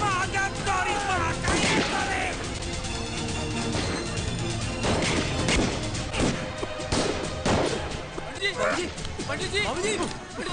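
Bursts of gunfire crack out amid a chaotic scene in the 2003 Hindi film Aanch, with shouting voices, crashes and dramatic music layered throughout.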